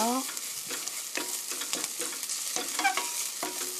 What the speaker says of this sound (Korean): 고춧가루 1 테이블스푼 넣어주시고요. 네, 살짝 볶아주세요.